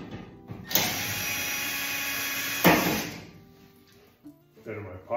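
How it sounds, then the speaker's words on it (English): Two Phillips-head screws being backed out of the top panel of a Maytag gas dryer, heard as two loud whirring, grinding bursts close by, followed by softer clatter. "I'll take out those two screws."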